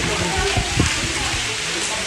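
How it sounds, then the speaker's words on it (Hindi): Heavy rain pours at Agra's Red Fort, a loud steady broadband hiss with scattered nearby splashes and people talking through it. "जैसे बारिश बहुत बढ़िया हो रही है"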